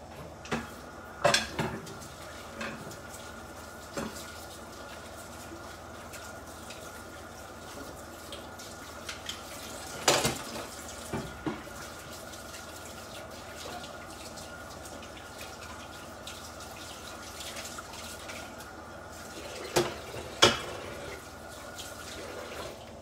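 Cutlery and dishes moved about on a kitchen counter during an Italian cooking session, heard as sparse, separate clinks and knocks over a quiet background hum, with a few louder clatters.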